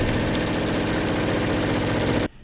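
A sewing machine stitches quilt pieces for a diamond ripple quilt, running in one loud, steady, fast-whirring stretch before stopping abruptly near the end.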